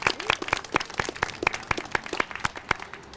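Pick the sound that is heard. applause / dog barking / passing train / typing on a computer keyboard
applause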